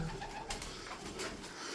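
Soft coos from Ankara milk-white domestic pigeons come and go against a faint background rustle, quiet and fairly close.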